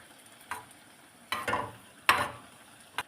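Food fries and is stirred in a pan while making carrot halwa: a soft sizzle is broken by a few sharp scraping stirs, quiet and close.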